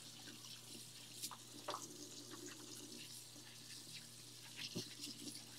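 Hot water running from a kitchen tap to rinse out a sink section used for washing meat, a quiet steady stream with a few soft splashes and clinks.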